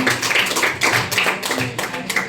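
An audience at a school legal awareness programme on traffic rules claps for a student, a close, loud burst of hand claps in uneven rhythm.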